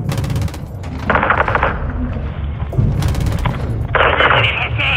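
Gunfire in Call of Duty: Modern Warfare II during a mission to identify a target, heard as loud repeated bursts of shots over a constant low rumble, with radio chatter mixed in.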